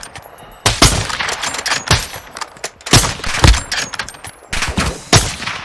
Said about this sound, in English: I'm getting shot at, but I don't know from where.